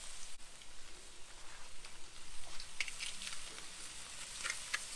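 Garlic and ginger sizzle in a hot wok, a faint, soft crackling patter that runs steadily, with a few brighter pops scattered through it.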